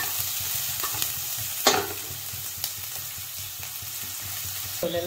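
Onion sautéing in a pan for a Malvani-style clam curry sizzles steadily up close, with occasional sharp scrapes and taps of a spoon stirring against the pan; no one speaks.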